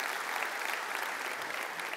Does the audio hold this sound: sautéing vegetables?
no